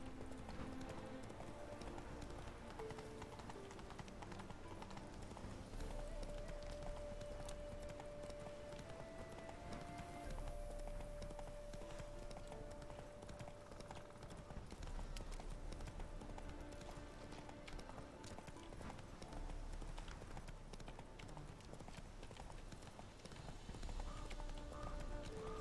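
Roach, Geralt's horse in the video game Witcher 3, gallops with a steady, continuous clip-clop of hooves that stays fairly faint under the game's ambient sound and music for the whole stretch.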